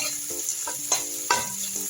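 Pointed gourd and raisins sautéing in a pan, a continuous close sizzle broken by several sharp spatula scrapes and stirs, alone without talk.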